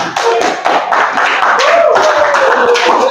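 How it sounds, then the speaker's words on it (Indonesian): A classroom group of students claps for a presenting group, a short burst of dense hand claps close by, with a faint voice sounding through it. "tepuk tangan"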